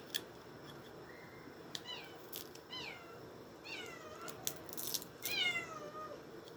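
A cat meows several times in quick succession, rising and falling cries close by, over a steady low background hum with no talking.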